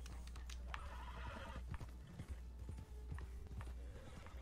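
Horse neighing and clip-clopping hooves in the video game Red Dead Redemption 2, a whinny with steady hoof steps over a constant low rumble of game ambience.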